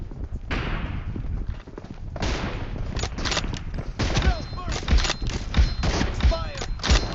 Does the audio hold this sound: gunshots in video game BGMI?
yes